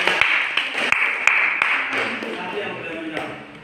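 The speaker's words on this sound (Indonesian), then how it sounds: "Kita tepuk tangan buat kelompok 2" Classroom group applauding students for their presentation: scattered hand claps and sharp taps ring out close by, irregular and fairly loud, over a constant murmur of voices and room noise.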